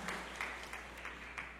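Congregation applauding during a church sermon, a steady wash of many hands clapping for about a second and a half at moderate level, with no talk over it.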